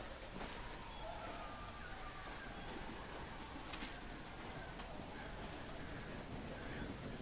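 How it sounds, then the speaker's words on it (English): Steady rain falls in a dark video game world, a constant broadband hiss with faint scattered drops and a low rumble running throughout, with no voices. "Oh, that's just rain sound."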